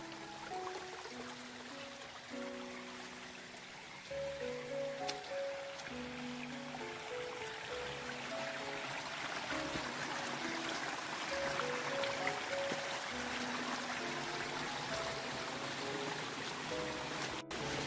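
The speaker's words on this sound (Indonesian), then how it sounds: "Ini musim hujan, airnya membludak." A rushing stream swollen with rainy-season floodwater, a steady broadband wash of flowing water running continuously and close, with a faint tonal hum underneath and no talk.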